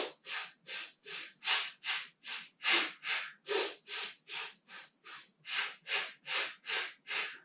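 Forceful, rhythmic breathing during a Pilates exercise: a steady run of about twenty short, sharp breath pushes, each a distinct hissing puff with a brief pause after it, close and loud, with no talk.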